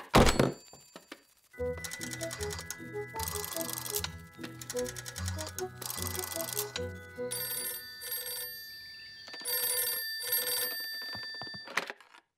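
Cartoon telephone ringing, a bright repeated bell ring pattern with clunky rhythmic thumps beneath, moderately loud and up close.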